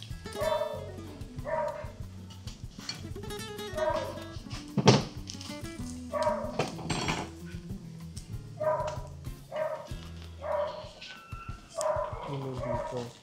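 A small dog yips and barks in short bursts, some whimpering between them, in a kitchen where a budget snack is being cooked, with clattering and people talking in the background throughout.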